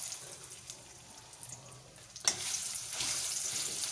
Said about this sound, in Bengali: পাতাগুলো আমি ভালো করে ভেজে নেব।